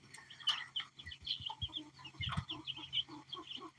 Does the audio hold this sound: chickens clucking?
yes